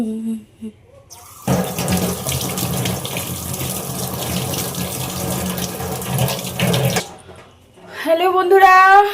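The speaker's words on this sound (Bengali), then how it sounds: "এই যে চাল ধুয়ে রাখছি, 1 কৌটা চাল, আবার ধুবো, জল দিয়ে ভিজিয়ে রাখলাম।" Rice being washed under a running kitchen tap, a steady broad gush of water lasting several seconds, close and fairly loud, with brief handling sounds before and a voice speaking afterward.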